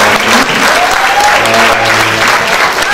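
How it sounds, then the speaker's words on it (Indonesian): Steady applause from a seated audience after a public university lecture on fraud audit, a continuous wash of clapping hands throughout with a faint voice mixed underneath. "Jadi kita beri aplaus untuk"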